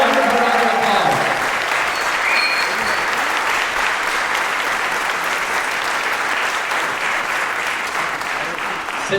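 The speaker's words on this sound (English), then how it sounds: "Let's give them a wonderful round of applause." Sustained, dense applause from a large audience at a gala performance, loud and steady across the whole stretch with faint crowd murmur beneath.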